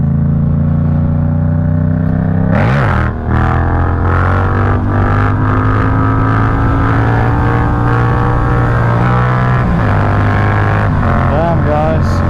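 A Yamaha MT-07 motorcycle engine roars loud and continuous through an uphill wheelie, revs rising and dropping as the throttle is worked, with heavy wind rush throughout.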